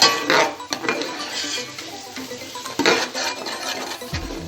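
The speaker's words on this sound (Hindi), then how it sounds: "मसालों को अच्छी तरह से मिक्स कर लेंगे" Onions with turmeric powder and spices being stirred in a pan, with a spoon scraping and clinking against the metal in uneven strokes, close and fairly loud, a faint sizzle beneath.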